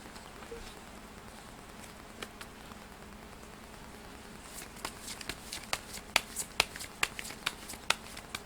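Fortune-telling cards are shuffled quietly at first, then sharp riffling snaps and flicks come in a quick, uneven series in the second half.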